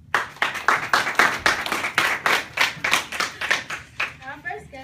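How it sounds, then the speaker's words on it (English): A round of applause from a studio audience welcoming a guest on a show, heard as a steady run of loud, rhythmic claps at close range with no voices over it. "So let's give it a round of applause"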